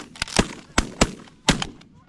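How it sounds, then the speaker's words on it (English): Shotgun blasts during an early-season goose hunt in North Dakota, five or so sharp reports in quick irregular succession, close and loud, with faint voices between shots. "my gun only went off once"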